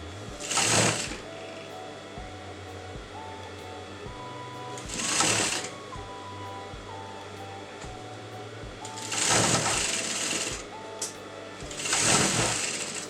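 A sewing machine stitches a kurta neckline slit in four short, loud motor bursts of rapid needle chatter, separated by pauses filled with a low hum.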